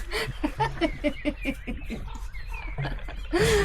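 A bird gives a series of rapid, repeated calls, then falls quiet before a final louder cry at the end.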